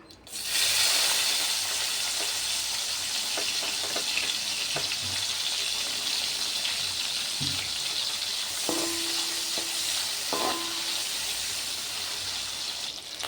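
Dried prawns frying in hot oil, a steady loud sizzle and hiss that carries on throughout, broken by a few faint clinks and knocks.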